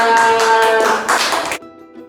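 A classroom of students claps together in a short burst of dense, close applause that stops abruptly after about a second and a half.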